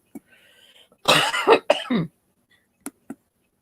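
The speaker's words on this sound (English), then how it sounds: "I've been coughing like this for a while today" A few harsh, close coughs in a short burst, followed by a couple of small isolated sounds against near silence.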